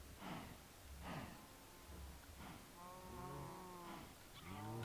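Cows mooing in the Minecraft modpack Project Ozone 3, several low drawn-out moos overlapping one another at a steady level over a constant background hum, with no talk.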